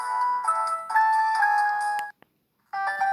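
Ringtone from a Samsung GT-E1272 played through a Newmind F15 flip phone: a loud, close electronic melody of sustained tones that stops abruptly, then after a short silence starts again.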